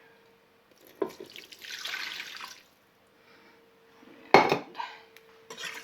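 Liquid poured into a pot for beef burgundy, a brief watery splash followed by clinking metal and spoon scraping as it is stirred, with quiet gaps between bursts and a short spoken word.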